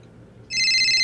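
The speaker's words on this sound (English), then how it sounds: "Now my phone is ringing" A phone starts ringing with a bright electronic ringtone that holds steady and loud after a brief moment of low background hum.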